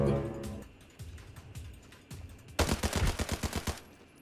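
Gunfire in the video game Arena Breakout, starting with a few scattered shots and then a rapid run of sharp, loud reports stacked close together near the end.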